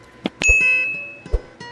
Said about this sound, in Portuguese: Também ative o sininho para receber as notificações das próximas postagens